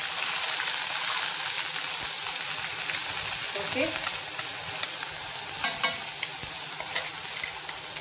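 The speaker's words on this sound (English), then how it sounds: "to this now I'm going to add onion paste" Onion paste sizzles and fries steadily in a pan for a bottle gourd dish, a dense continuous crackle with a few louder scraping stirs near the end.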